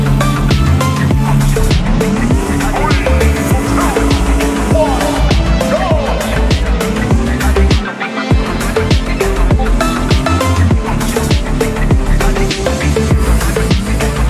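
A Ferrari in the Roblox game Vehicle Legends races through a drag race with a continuous loud engine roar, shifting pitch and game sound effects throughout, under busy layered audio.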